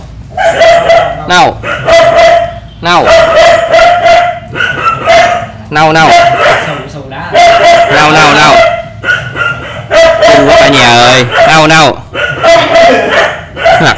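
Several dogs bark loudly and repeatedly at an animal shelter where a mother dog is among them, while people talk over the continuous barking.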